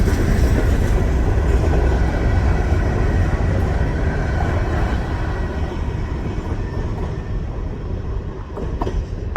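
A gondola train ride across the Ohio River runs on its rails, giving a steady, loud rumbling roar with faint clatter throughout, close and continuous with no voices.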